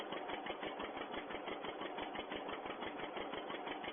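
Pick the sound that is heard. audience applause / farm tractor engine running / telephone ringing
farm tractor engine running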